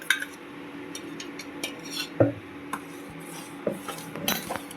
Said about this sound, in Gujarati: સારી રીતે મિક્સ કરી અને ચલાવશું થોડી વાર.